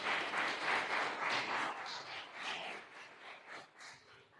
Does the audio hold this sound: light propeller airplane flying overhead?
no